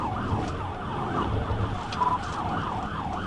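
A police car siren wails, sweeping up and down steadily over a low engine rumble, fairly close and continuous.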